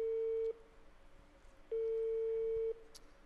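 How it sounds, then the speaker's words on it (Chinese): A telephone busy signal after dialing a call: two clear, steady electronic tones, each about a second long with a pause between them, loud and alone with no talk. "你这样，我给他拨过去。"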